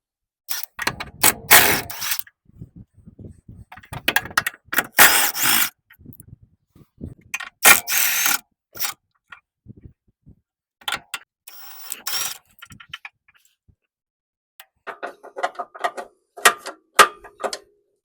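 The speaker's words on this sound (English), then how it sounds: "Now we remove those two 40 millimeter bolts." Bolts being removed from the lower engine mount of a 1994–2001 Acura Integra, using 40 millimeter bolts: bursts of ratcheting and metallic clicking with wrench rubs and taps, coming in close, loud spurts separated by short pauses.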